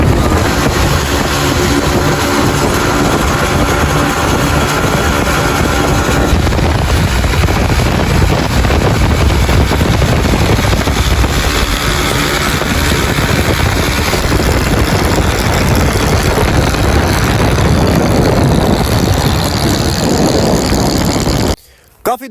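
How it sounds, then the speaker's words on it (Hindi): Motorcycle riding at 80 km/h on a road in Cholistan, with steady loud engine drone and heavy wind rush throughout, continuous and close, cutting off abruptly near the end. "इस वक्त हम 80 की स्पीड पर जा रहे हैं, वो भी मोटरसाइकिल पर"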